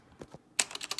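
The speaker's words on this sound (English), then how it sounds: "Now, gonna mash keys." Keys on a computer keyboard are mashed: a couple of soft taps, then a quick burst of loud, rapid clicks close by.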